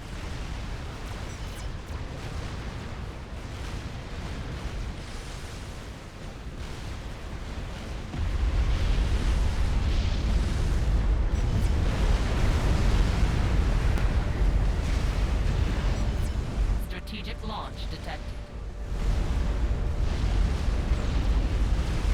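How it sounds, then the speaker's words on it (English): Long-range artillery in the strategy game Supreme Commander: Forged Alliance keeps firing during a 6v6 match, a continuous heavy rumble of blasts that swells louder partway through. "We're starting to see long-range artillery flowing across the map."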